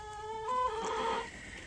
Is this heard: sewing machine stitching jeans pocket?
no